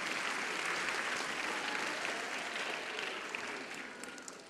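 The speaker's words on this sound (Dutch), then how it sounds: "mogen jullie weer klappen?" A crowd at a children's university lecture claps steadily and warmly, dense applause that holds for several seconds and slowly tapers off.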